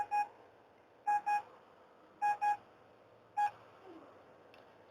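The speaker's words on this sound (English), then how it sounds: "this fucking beeping is pissing me off already" Electronic beeps sound in short bursts, single and paired, repeating about every second with a quiet background between them and no talking.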